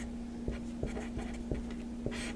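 Marker strokes on a board, soft rhythmic squeaks and taps as a few short words are written, close and fairly quiet over a faint steady electrical hum.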